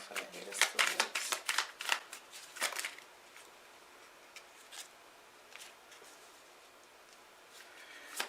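Tarot cards shuffled up close in a quick burst of riffling flutters and slaps over the first three seconds, then a few scattered soft card sounds in a quiet room.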